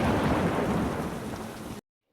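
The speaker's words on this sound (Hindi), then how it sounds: "He encountered a storm that night." A thunderstorm with rain and thunder: dense, steady rain hiss under a deep rolling rumble, loud and continuous for nearly two seconds before cutting off abruptly to silence.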